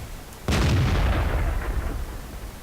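A tank gun fires once in the World of Tanks video game, a sharp, loud blast followed by a long, rumbling decay that fades over about two seconds, with no talking.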